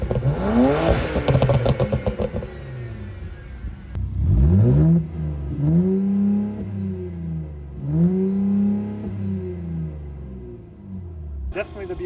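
Tuned sports car engines, including a BMW, rev hard in a side-by-side sound test: repeated rising and falling throttle blips with deep rumbling harmonics, close and loud, some rapid clattering pulses early on.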